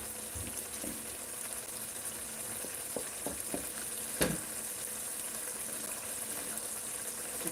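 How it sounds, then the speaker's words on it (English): Egusi soup cooks in a pot with a steady soft sizzle and bubbling, a few faint scraping stirs and one sharp knock midway, while a voice talks quietly in the background. "You keep stirring your egusi so that it doesn't get burnt."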